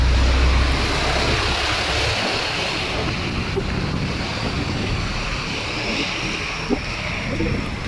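Strong Typhoon Uwan wind roars over crashing waves near Manila, a loud continuous rush of gusts and surf buffeting the microphone for the whole stretch.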